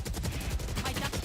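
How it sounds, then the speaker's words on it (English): Sustained rapid gunfire from a Valorant esports playoff round, dense overlapping bursts of automatic fire at full loudness throughout with no talk. "Becomes a bit of a bullet barrage there to end the round"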